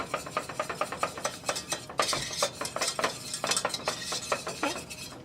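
A whisk beats a cheese sauce for mac and cheese in a pot, rapid rhythmic metallic clicking and swishing strokes, close and steady throughout with no talking.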